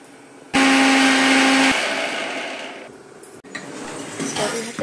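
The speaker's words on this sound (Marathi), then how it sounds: "सर्व भाजून घेतलं आणि एकदम मिक्सरला फिरवून घेतलं आहे" A kitchen mixer grinder whirs loudly up close for about a second, grinding a red chutney of roasted dry coconut and garlic, then winds down into clinks and handling noises.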